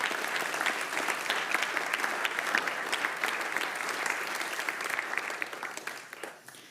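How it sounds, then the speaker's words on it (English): An audience at a startup demo day gives a big round of applause for founders and supporters, sustained dense clapping from a sizeable crowd that holds steady for several seconds and then tapers off at the end. "big round of applause for all the founders and all the supporters"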